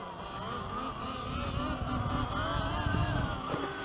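A Surron electric dirt bike's motor whines during a power wheelie, a steady high electric hum with a buzzing insect-like tone and shifting pitch under wind and road rumble.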